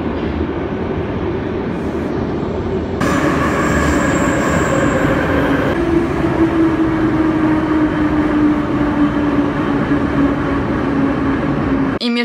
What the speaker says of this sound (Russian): У нас в Москве также открылось новое метро.